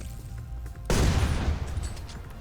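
An ornate sniper rifle fires in a Rev2 raid mode video game, giving one sudden heavy shot with a booming report that decays slowly over a low, steady background.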